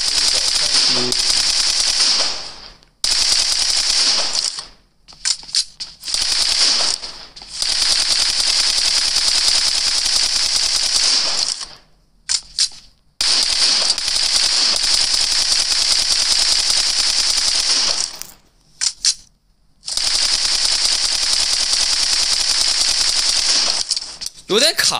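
Machine gun fire in a mobile shooting game, PUBG Mobile, comes in long loud rapid bursts separated by short silent gaps.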